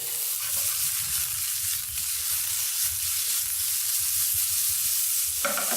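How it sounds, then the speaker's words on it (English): Fiddleheads sizzle steadily in a hot frying pan, a loud constant crackling hiss, with some stirring or shuffling in the pan underneath. "You want to hear a nice sizzle."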